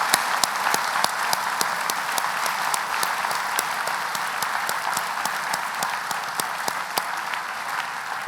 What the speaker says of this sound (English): So just a round of applause, please, for our honorary graduate.